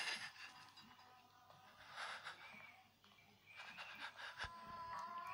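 A creature in a horror video game breathes heavily with a raspy, wheezing pant, faint and low under steady background noise.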